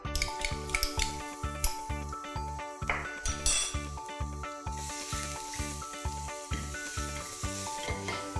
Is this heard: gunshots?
no